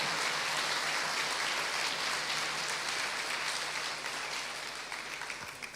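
A church congregation applauds steadily at a convention service, a dense wash of clapping that holds for several seconds and slowly thins toward the end, with no voices on top.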